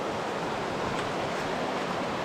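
River flowing beside an outdoor riverside cookout, a steady broadband rush of water, even and continuous with no voices.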